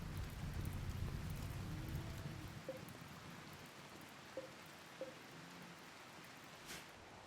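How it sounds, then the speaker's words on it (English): Rain falls steadily in the colony-building video game RimWorld, a soft broadband hiss that thins after a few seconds, with a few faint game tones over it and no talking. "Okay, rain's coming in."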